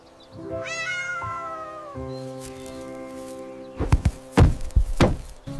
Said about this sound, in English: Farm cat.